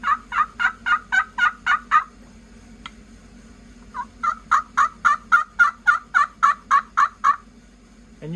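A turkey pot call worked by hand to imitate a wild turkey, giving two runs of sharp, rhythmic yelps, about eight and a dozen notes, close and clear with a brief pause between runs.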